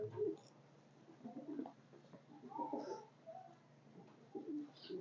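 Pigeons coo softly in repeated low, throaty phrases, fairly close but quiet, with short pauses between calls and no talking.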